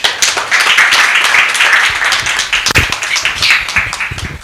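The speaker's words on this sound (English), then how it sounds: "Another round of applause" A conference audience at the FIDA-Kenya annual opening ceremony breaks into loud, dense applause, many hands clapping steadily up close for several seconds.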